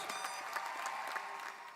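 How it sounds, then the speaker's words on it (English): A graduation audience claps for the graduates and readers at a Class of 2021 high school ceremony in Saugus, dense, steady applause filling the space without pause. "Give a round of applause to our readers and our graduates."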